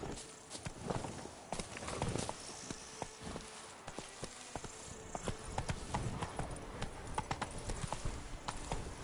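Horse hooves clip-clopping at a walk in a video game, a steady uneven patter of hoofbeats over a low ambient bed.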